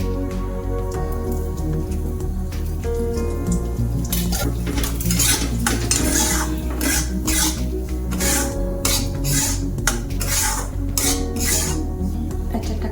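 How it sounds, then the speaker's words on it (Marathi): Semolina for sheera roasting in ghee in a pan over a low gas flame, with a steady scraping and clinking of a metal spoon against the pan throughout, loud and close. "छान भाजून घेते आता बारीक गॅसवर. अजून 1 चमचा तूप टाकते."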